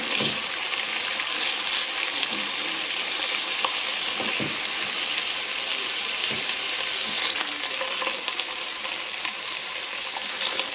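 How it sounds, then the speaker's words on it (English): Bacon end pieces fry in a hot pan with a steady, close sizzle and crackle that runs the whole time, with occasional small pops and scraping as strips are turned. "I'm going to check up on the bacon now, which has rendered extremely well. Give these strips a flip."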